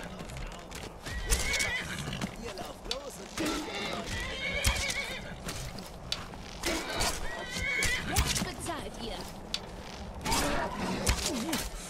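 Horse neighing and whinnying in Skyrim, with repeated loud whinnies and snorts over clip-clop hooves and game combat noise, lasting the whole stretch.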